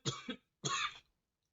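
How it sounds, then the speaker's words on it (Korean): Two close, quiet coughs in quick succession from a single person, the first a pair of short bursts and the second a longer, rougher hack, followed by silence. "기침이 좀 잠깐 나왔습니다"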